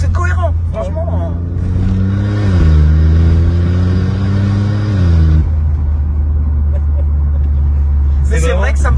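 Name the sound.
car engine revving with exhaust pops on downshift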